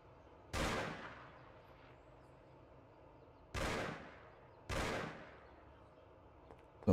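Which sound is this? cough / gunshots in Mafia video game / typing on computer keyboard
gunshots in Mafia video game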